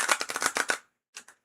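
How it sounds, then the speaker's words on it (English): Tarot cards shuffled by hand in a quick burst of crisp, close riffling flutters for under a second, then a pause and two brief further shuffles, with no speech. "needs more shuffling"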